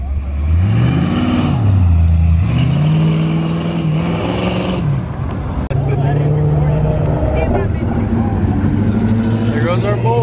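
A 1,000 horsepower Nissan GTR accelerates hard away from a car show, its engine note climbing and dipping through loud revving gear changes, with people talking over it throughout.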